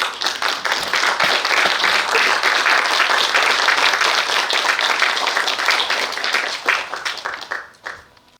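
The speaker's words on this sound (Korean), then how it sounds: "우리 원장님 앞으로 나오실 때 힘찬 박수 부탁드리겠습니다" A lecture audience at a reunification academy for separated families claps hard to welcome the speaker, head of a unification research institute. The applause is loud and sustained, then fades into a few scattered claps at the end.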